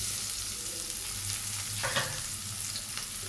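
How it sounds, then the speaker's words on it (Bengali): Chopped onion and bay leaves fry in hot oil with a continuous low sizzle, broken by a brief stirring scrape near the middle, quiet and steady with no voices. "তেজপাতা এবং পেঁয়াজটাকে আমি একটু ভেজে নেব"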